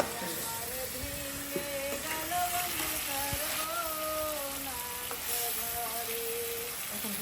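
Boal fish with eggplant sautéing in a pan, a steady soft sizzle and spatter running throughout, close and moderate, with someone speaking over it.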